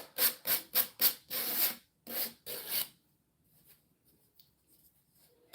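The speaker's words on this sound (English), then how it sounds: "we're just sanding off the rest of that napkin" A small electric sander buzzes in short, loud repeated bursts, close up, sanding off napkin on a craft piece, then stops, leaving quiet room noise.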